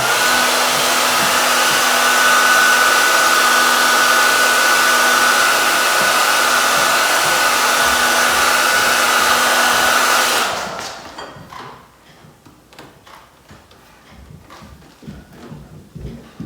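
A heat gun blows steadily while warming a KTM motorcycle graphics decal, a loud continuous whooshing hiss with a faint whine that runs for about ten seconds, then cuts off, leaving quiet handling noises.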